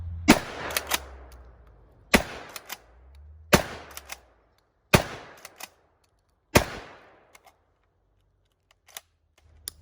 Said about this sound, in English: So here's 5-round mag loaded with 2 3/4 inch shells, ready to start firing.